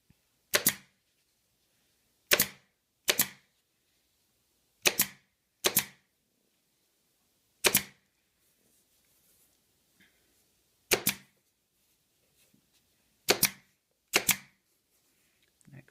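A staple gun fires into upholstery on a vintage Madison chair during arm rest work: ten sharp, loud snaps in irregular pairs and singles, close up, with quiet pauses between and no talk.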